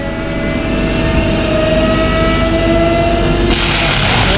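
A TMC Cancela THI-100 mulcher head spins at high RPM and cuts, giving a loud, sustained mechanical drone with a steady whine, and it grows harsher and brighter near the end as the teeth bite in.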